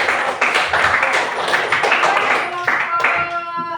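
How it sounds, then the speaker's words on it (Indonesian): Classroom applause in an Indonesian school lesson, a few seconds of dense, close clapping from a group of students, with voices mixed in. "Tepuk tangan."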